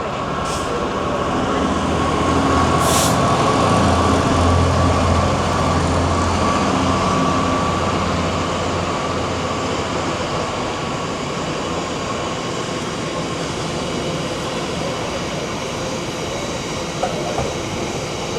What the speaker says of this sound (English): It's a big old freight train.